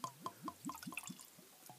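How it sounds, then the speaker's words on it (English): Whisky mixed with gold leaf glitter is poured into a glass, giving a quick series of soft liquid drips and gurgles with a rising pitch, close and fairly quiet. "So I'm just going to pour this in."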